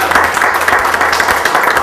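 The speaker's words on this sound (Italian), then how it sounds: "Facciamo un applauso anche" Close, loud applause from the audience at a cooking competition held in a trattoria, dense continuous clapping with sharp individual claps, with no voices over it.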